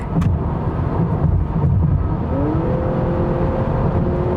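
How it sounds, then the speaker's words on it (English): A 2023 Honda Accord Hybrid Sport-L pulls hard at highway speed, its engine and motor whine rising steadily in pitch over a constant roar of road and wind noise, heard from inside the cabin with no talking. "let's give it some gas while we're going kind of fast because we do have 247 foot-pounds of torque"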